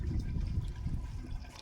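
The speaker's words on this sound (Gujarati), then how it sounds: "અહીંયા કુંડી સરસ મજાનું પાણી આવી રહ્યું છે" Water pouring steadily into a farm tank in a field, a continuous low rushing splash heard close and alone for the whole moment.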